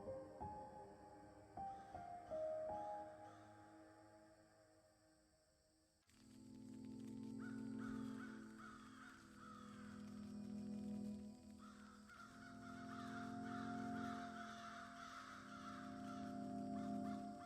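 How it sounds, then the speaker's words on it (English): Crows caw outside in repeated harsh calls that come in bursts over a quiet backdrop, faint and distant through much of the stretch. "I can hear the crows outside."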